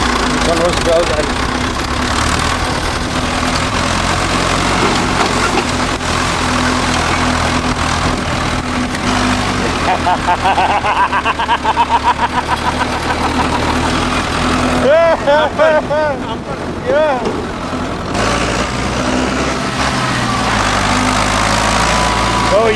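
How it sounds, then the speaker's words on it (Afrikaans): A tractor engine runs on a farm, a steady mid-pitched idling drone that holds for the whole stretch, close and loud, while people talk over it. "Oh ja, die trekker."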